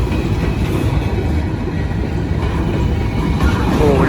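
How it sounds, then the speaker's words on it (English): A heavy train pulled uphill by two heritage locomotives, including an office car, rumbles loudly and steadily throughout, with continuous low engine drone and rolling wheel noise close by. "This is a heavy train here."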